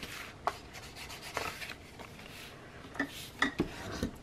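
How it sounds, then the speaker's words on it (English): Paper being burnished onto the back of a book's front cover, heard as faint, close scraping and rubbing strokes with a few sharper ticks and taps, quiet and intermittent, with no talking. "And we're going to burnish."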